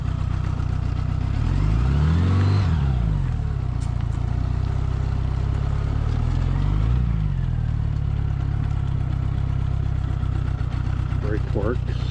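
A 1977 Honda GL1000 motorcycle engine runs steadily and loudly up close, with a couple of rising and falling passes as it revs and moves, and a person speaks over it.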